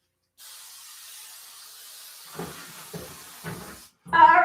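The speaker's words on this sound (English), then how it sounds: "So I'm going to spray this with" Aerosol cooking spray hisses in one long steady burst while brunch is prepared, followed by a few soft knocks and clatters of kitchen items and a short louder rustle at the end.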